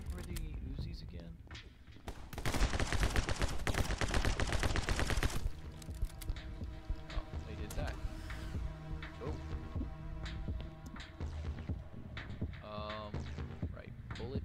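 Rapid Uzi fire rattles in the game My Friend Pedro, a dense, loud burst of shots for a few seconds followed by quieter game sounds and music, with a player's voice now and then.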